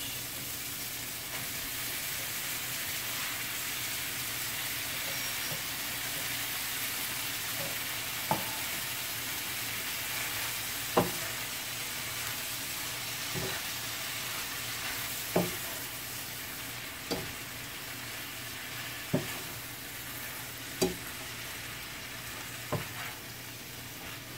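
Spinach stirred in a hot pan, a steady soft sizzle running throughout with a series of sharp scraping clicks from the utensil recurring every couple of seconds, fairly quiet and close.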